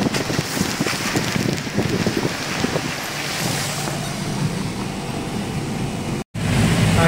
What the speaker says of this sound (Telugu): కుండపోతగా వర్షం వస్తుంది